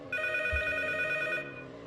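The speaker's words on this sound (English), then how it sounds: "once you hear the phone start ringing, at that point you need to go and pick up the phone" A telephone rings in the P.T. horror video game, a bright, sustained electronic bell tone holding steadily for over a second before cutting off, with no speech.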